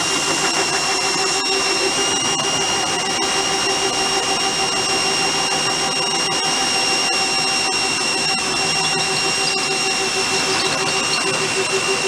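The engine of a Beaver amphibious vehicle runs in low gear, making a loud, steady, unbroken drone with a whining, tonal edge that holds nearly unchanged throughout, close up and with no voices.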